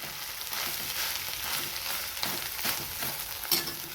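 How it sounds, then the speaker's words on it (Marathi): Egg rice pan-roasted and pressed down in a hot pan, sizzling steadily up close with scraping stir strokes and a few sharper clicks of the utensil against the pan, no talking. "आणखीन याला थोडंसं भाजून घेऊया आणि असं प्रेस करूया, म्हणजे लवकर भाजले जातील."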